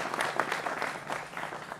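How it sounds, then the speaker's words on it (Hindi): Studio audience applause welcoming guests on a Hindi TV political debate show, a brief burst of dense clapping at moderate level. "जोरदार तालियों के साथ अभिनंदन करिए तमाम मेहमानों का।"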